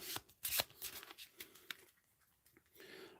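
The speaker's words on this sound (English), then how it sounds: "Shuffle it." A small deck of light bomber cards from the board game Skies Above Britain being shuffled by hand, a quick run of crisp riffling flicks and slaps, close and fairly quiet, tapering off near the end.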